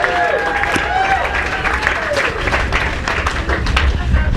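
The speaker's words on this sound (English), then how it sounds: "A round of applause." Applause from a wedding reception crowd, a dense, steady patter of many hands clapping for the couple, sustained at full strength with faint voices mixed in.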